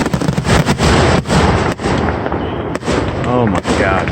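Fireworks display at night, loud rapid bursts and crackling volleys packed close together, with a few whistling rising tones near the end and excited voices underneath.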